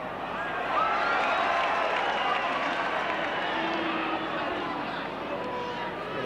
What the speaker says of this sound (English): Well, the fans booing, but that whistle was very clear.